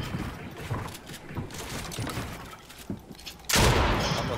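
Gunfire in the Fortnite battle royale video game, Chapter 3 Season 2, comes as scattered sharp shots over a noisy background, ending in a louder, sustained burst of fire.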